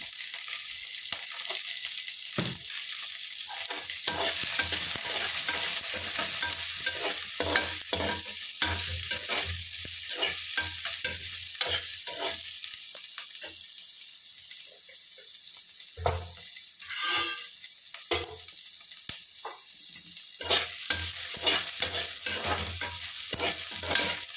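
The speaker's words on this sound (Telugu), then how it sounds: "ఉల్లిపాయలు వేసాక చిన్న సాల్ట్ వేస్తే ఈజీగా ఫ్రై అవుతాయి" Onions frying with salt in a pan: a steady hiss of sizzling oil runs throughout, broken by frequent scraping and clinking as a spoon stirs, close and moderately loud with no voices.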